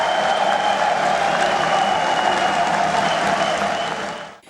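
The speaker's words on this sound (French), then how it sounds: "la population qui a applaudi et crié de joie pendant les moments forts de la cérémonie" A large crowd applauding at a ceremony in the Palais des Sports, dense continuous clapping with a murmur of voices that holds steady and then cuts off abruptly.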